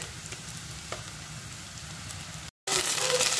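Onions frying in a pan with ginger-garlic paste while an egg tadka is cooked, a steady broadband sizzle with faint stirring scrapes, cut by a brief dropout before the sizzle returns brighter and louder.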